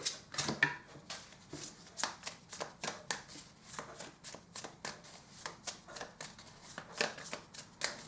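Tarot cards are shuffled by hand in a long run of crisp, quick riffles and flicks, close and fairly loud, with no talking.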